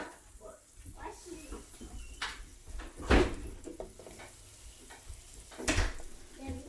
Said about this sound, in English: So I'm going to go ahead and put this in my skillet.